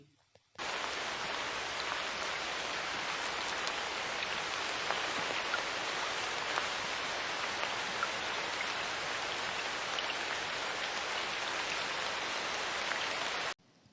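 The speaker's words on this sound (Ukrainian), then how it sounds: "Я пропоную вам послухати звуки дощу." Rain falls in a dense, even hiss of drops pattering on a surface, steady and close for about thirteen seconds and stopping abruptly at the end.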